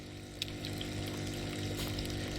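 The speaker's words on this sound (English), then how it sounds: "The left wall is lined with churning tanks of water." Churning water tanks in the video game Kentucky Route Zero give a steady, faint, bubbling, pump-like wash that continues without a break and has no talking over it.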